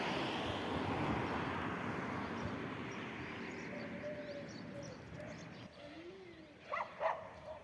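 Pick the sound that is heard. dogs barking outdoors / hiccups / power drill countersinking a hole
dogs barking outdoors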